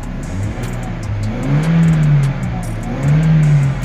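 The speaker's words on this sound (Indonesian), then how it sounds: "Kita gas-gas, kita berikan beban ya." A petrol Toyota Innova with the air conditioning running is revved repeatedly under load; the engine note swells and falls in two long rising pulls, close and steady, with no talking over it.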